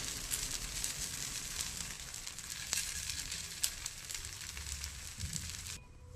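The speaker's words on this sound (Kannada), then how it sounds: "ವೆಜ್ಜೀಸ್ ಎಲ್ಲ ಚೆನ್ನಾಗಿ ಸ್ವಲ್ಪ ರೋಸ್ಟ್ ಆಗಲಿ." Vegetables roasting in a hot pan on low heat give off a steady, close sizzle with a faint crackle, continuing without a break until it cuts off at the end.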